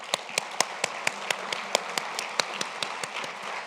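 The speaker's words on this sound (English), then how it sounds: "Let's have one more round of applause." Audience applause at a business awards presentation, a steady wash of many hands clapping with sharper individual claps standing out at a regular pace, moderately loud and without talk.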